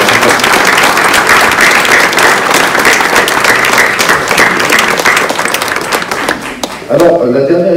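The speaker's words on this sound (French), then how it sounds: "Donc je crois déjà qu'on peut applaudir ces artistes invités d'honneur de la Pierre Ribet et Aurélie Aymar" A crowd at an art salon opening and prize ceremony claps loudly and densely for guest artists, the applause near and sustained before thinning at the very end as a voice begins talking.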